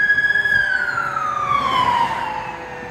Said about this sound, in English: police cruiser's driving by